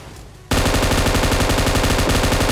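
Heavy sustained automatic gunfire in a battle royale shooter firefight, with an M249 among the weapons, erupting after a quiet half second into loud, dense, continuous bursts that fill the rest of the moment.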